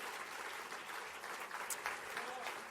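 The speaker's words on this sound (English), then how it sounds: "Let's give them a round of applause" Applause for finalists at the EURORDIS Black Pearl Awards ceremony, steady crowd clapping held at a moderate, somewhat distant level, with a voice speaking under it.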